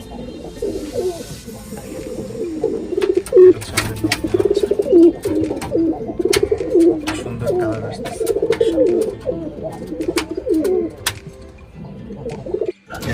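Hungry pigeons gathered at their feeding dishes in a home loft coo continuously in low, throaty rolls, with a few wing flaps and clicks nearby and someone speaking briefly.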